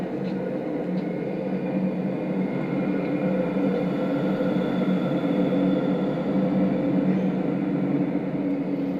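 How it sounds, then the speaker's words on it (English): A London Underground train on the Bakerloo line runs through a noisy tunnel in a train simulator game, producing a continuous rumbling roar with faint tonal whines and an even level from start to finish. "That's a noisy bit of tunnel."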